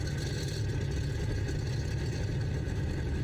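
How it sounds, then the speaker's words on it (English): The PASPED Skylark aircraft engine in Microsoft Flight Simulator runs with a steady low rumbling drone, moderately loud and even, with no voices over it. "the engine in this is a little louder than most"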